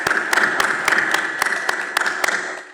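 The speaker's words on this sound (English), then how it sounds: "A warm hand of applause." An audience at a conference on energy, infrastructure and employment applauds as a speaker is introduced, a steady wash of clapping with a few sharp, distinct claps standing out before it fades at the end.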